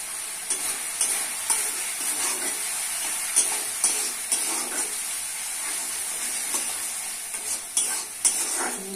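Tomato masala with turmeric, red chilli and cumin powders stirs and fries in a pan: a steady close sizzle and hiss with repeated scraping knocks of the spoon, and no voices.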